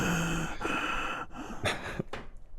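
A voice imitates heavy breathing into a microphone, with several loud, close gasping inhales and exhales broken by short pauses.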